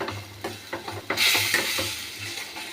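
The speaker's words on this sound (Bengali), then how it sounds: "হলুদ আর এই দিয়ে লঙ্কার গুঁড়ো দিয়ে ভালো করে কষিয়ে নেব।" Sesame and poppy seed paste fried with turmeric and chilli powder for a pointed gourd curry, with a close sizzle and quick rhythmic scraping stirs that swell into a louder hiss midway.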